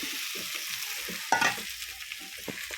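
A spoon stirs and mixes mashed potato bhaji in a hot pan, with soft repeated scrapes and a light sizzle, one sharper scrape standing out midway, close and fairly quiet with no talk.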